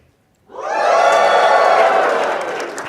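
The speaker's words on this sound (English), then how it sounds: "So let's give 1 cheer to test it out. Everybody cheer." Convention panel audience at PAX East bursts into loud, sustained crowd cheering and whooping after a short silent pause, holding steady for a couple of seconds with many voices shouting together.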